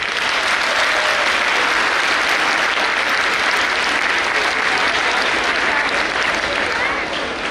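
Sustained, dense audience applause fills a school annual function hall, loud and steady throughout with no break, fading only slightly at the very end.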